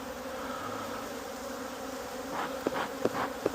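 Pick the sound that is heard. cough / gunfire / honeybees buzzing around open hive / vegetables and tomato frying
honeybees buzzing around open hive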